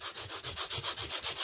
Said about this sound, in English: I'm going to take just my Dollar Tree fine-sided sanding block, and just to make sure this bottom is really smooth so it sits flat